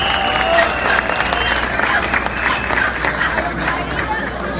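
A large crowd at a political rally in Ibagué applauds loudly, continuous clapping mixed with cheering and crowd murmur, with voices audible through the noise.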